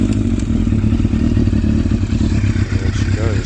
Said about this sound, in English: So if you want to hear how it sounds, there's the ignition.